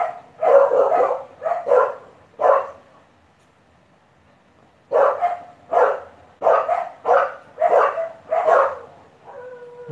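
Several loud, close dog barks in quick bursts, a pause, then another rapid series of barks, with a faint whine at the end.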